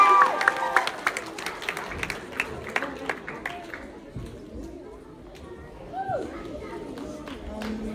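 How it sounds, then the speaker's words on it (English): Audience applause and cheering for a Kiribati youth dance group at a community group's fifth-anniversary celebration, with scattered claps and a few shouts that fade toward the middle before a brief lift near the end. "Give them a round of applause!"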